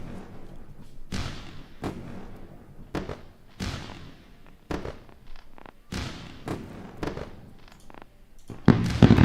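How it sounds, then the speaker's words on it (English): Fireworks sound effect plays as a celebration, with a string of sharp bangs and thumps at irregular intervals, each decaying with a crackling tail, growing denser and louder at the end. "Let's go for the round of fireworks."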